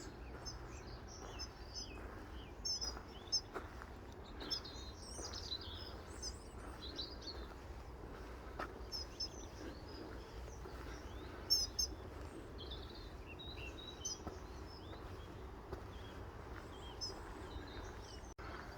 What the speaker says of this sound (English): As I walk past, I scare all the birds.